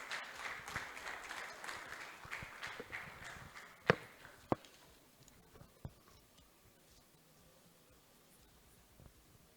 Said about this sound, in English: Put your hands together for Mr. Raymond Anyam Osigwe for his welcome address